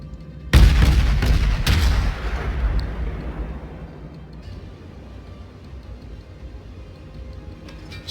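Naval shells and gunfire in the World of Warships game around a German cruiser Karlsruhe: a sudden heavy boom followed by another blast, then a long rumbling decay with faint crackles, no voices.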